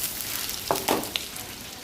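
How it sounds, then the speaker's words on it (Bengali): Onions sizzle steadily in a hot pan, a continuous crackling hiss with a few small pops, no voices. "এদিকে পেঁয়াজটাও ভাজা হচ্ছে"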